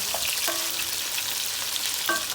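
Garlic sizzling in vegetable oil with a spoonful of butter over low heat for pasta, a steady close hiss with a few faint clinks and brief tonal rings from the pan.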